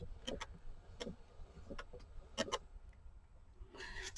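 A Classic Carder hand-cranked drum carder turning as it packs fibers onto the drum, faint irregular clicks and ticks under a quiet background, ending in a soft rustle.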